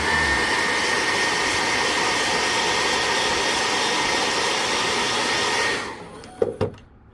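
Near, loud hair dryer blows steadily to dry paint on a Custom Bait Works Level Vib fishing lure, then cuts off after about six seconds, followed by a few soft clicks and handling knocks.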